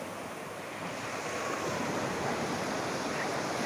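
Ocean waves washing in continuously at Corbyn's Cove beach in Port Blair, Andaman Islands, a steady broad roar of surf with wind buffeting the microphone, no voices.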